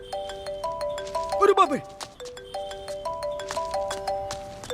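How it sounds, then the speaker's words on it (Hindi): A phone ringtone plays in a bouncy, repeating electronic melody that loops steadily, with a startled voice exclaiming over it partway through. "वाह, क्या रिंगटोन लगाई है तूने?"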